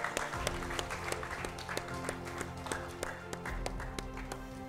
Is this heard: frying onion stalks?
no